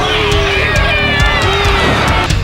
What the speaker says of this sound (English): The crowd hates him.